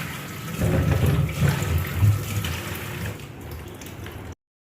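Tomatoes and green chillies being washed under a running tap, a steady close splashing and gurgling of water that swells and eases before cutting off abruptly.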